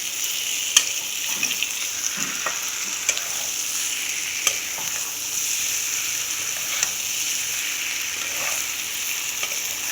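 Steady sizzle of boiled egg masala frying in a pan, with scraping stirring strokes and occasional sharp clicks of a utensil against the pan, continuous and close with no talking.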